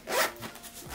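A zipper is pulled closed on a fabric packing bag for carry-on travel, one quick, close, rasping pull with a light rub of material.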